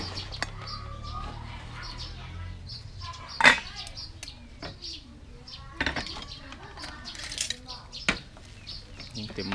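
A utensil scrapes and taps against a pot several times while scooping cooked rice, with scattered clinks and a brief louder knock, under faint background activity.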